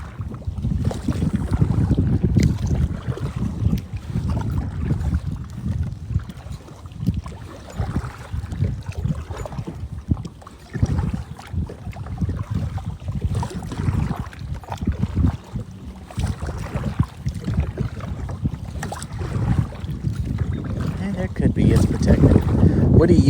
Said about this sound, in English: It's obviously windy out here.